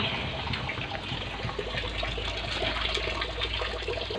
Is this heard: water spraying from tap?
yes